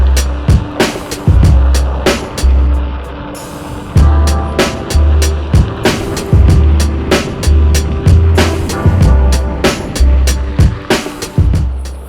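A Onewheel Pint board riding and carving outdoors gives a steady, loud motor hum with low rumbling surges, broken by repeated sharp clacks and gritty rolling noise as the rider carves back and forth.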